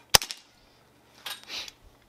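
One sharp, close crack from an Evanix Viper X compact semi-automatic PCP air pistol at a range, followed by a brief rattle and soft mechanical noises.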